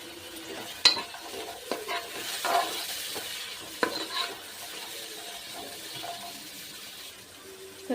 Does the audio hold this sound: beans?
yes